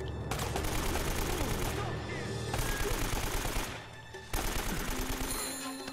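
Sustained automatic gunfire roars through most of the stretch in the Uncharted video game, broken by two short lulls, with a voice speaking underneath.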